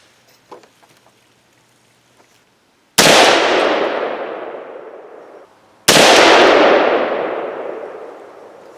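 Two sharp, loud 300 Blackout rifle shots firing 110-grain Barnes TAC-TX handloads ring out a few seconds apart at an outdoor range. Each crack is followed by a long, fading echo, with quiet handling noises before the first shot.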